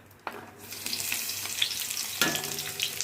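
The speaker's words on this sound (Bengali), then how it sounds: "তেল গরম হয়ে গেছে, তো পেঁয়াজটা দিয়ে দেবো" Onions fry in hot oil in a wok: a close sizzling hiss that swells after a sharp crackling onset, with a second burst of crackle midway as they hit or are stirred, no talking.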